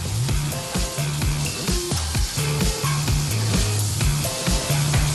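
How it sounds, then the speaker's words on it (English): Skate fillets seasoned with salt and pepper fry in hot butter, a steady close sizzle running throughout beneath rhythmic background music. "The skate fillets are seasoned with salt and pepper, then fried briefly on both sides in hot butter."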